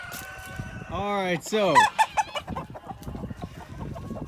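Roosters, including a Houdan, cluck and squawk loudly nearby in a rapid burst of calls, then quieter clucking as someone briefly speaks.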